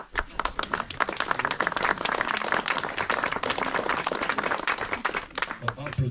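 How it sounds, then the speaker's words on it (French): Applause at a village inauguration ceremony, with many hands clapping in a dense, steady burst that fills the space, voices murmuring underneath. "Applaudissez-le"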